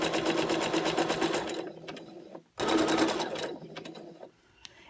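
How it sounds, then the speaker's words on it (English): A sewing machine runs a zigzag stitch around the edge of a microfiber disc, whirring steadily in two close bursts separated by a short pause, with faint clicks as it stops. "So I'm going to go all the way around the disc using this zigzag stitch."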